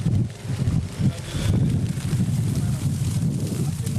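Strong wind at a wildfire near Alexandroupolis, loud gusty roaring and buffeting against the microphone with a constant low rumble, with a person talking over it.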